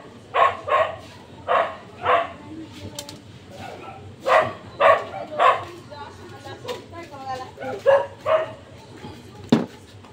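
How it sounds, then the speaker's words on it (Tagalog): Stray dogs barking outside, repeated sharp barks in uneven bursts from more than one dog at moderate distance, with someone talking over them. "ang ingay ng aso."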